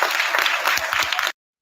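Brief burst of audience applause welcoming a speaker, dense steady clapping with a few heavier thumps, cutting off abruptly into silence.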